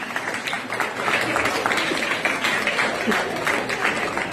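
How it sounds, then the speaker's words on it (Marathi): Classroom audience claps for a quiz winner, a dense, continuous patter of applause at moderate volume lasting throughout. "सर्वांच्या टाळ्या टाळ्या वाजवा रे"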